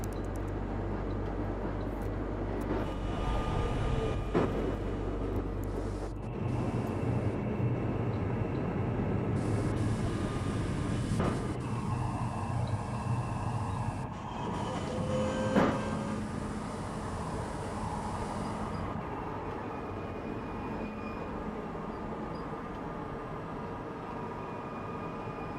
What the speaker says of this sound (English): Yeah, that is an M train.